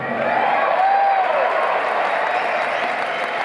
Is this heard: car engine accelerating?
no